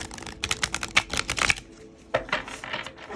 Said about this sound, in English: Gonna do some shuffling.